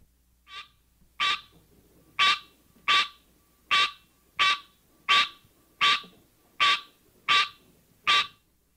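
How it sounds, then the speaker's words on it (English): Green tree frog (Hyla cinerea) calling alone: a steady series of about eleven loud, nasal honking notes spaced roughly 0.7 seconds apart, close and clear against a quiet background. "the green tree frog, Hylocenaria, has this call"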